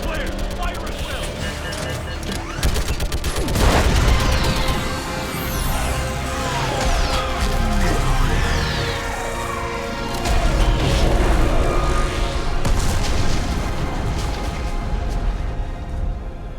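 Orbital strike explosions and gunfire in Mass Effect: a dense, continuous barrage of booming blasts, crashes and mechanical clatter with sweeping whooshes, loud and close throughout, with speech mixed in.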